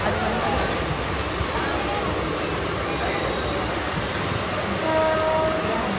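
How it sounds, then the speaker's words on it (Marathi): A Mumbai local train heading from CST rumbles along from inside the carriage, a steady loud roar of wheels and rattling cars with a faint murmur of passengers and a brief horn-like tone near the end. "CSTच्या ट्रेनमध्ये बसलो आणि अशी लोकल आहे"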